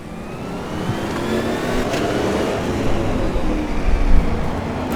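Copper Montana race cars from Automobilista 2 roar continuously as they pull away, a steady loud engine drone building with rising revs and boost, no voices over it.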